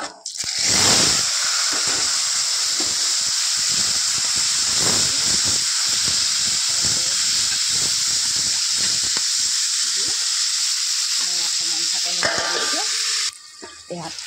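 Nigella seeds and a bay leaf dropped into a little hot oil for a meat curry with ou tenga, giving a loud, close, steady hiss and crackle that runs throughout and cuts off near the end.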